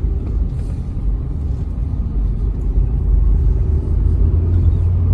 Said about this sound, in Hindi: जितनी बड़ी गाड़ी होने के बाद जो इसमें 1500 सीसी का इंजन दे रखा है वो काफी पावरफुल इंजन दे रखा है।